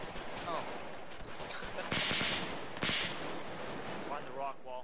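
Gunfire in a multiplayer military video game, bursts of rapid shots under a steady background of game noise, with a few louder volleys in the middle.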